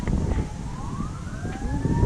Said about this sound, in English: Here, fire and police cars.